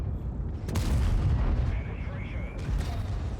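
A heavy FV215b tank cannon fires at an enemy vehicle's track in World of Tanks, a loud booming shot followed by a rumbling tail with a second blast later, under game noise and speech.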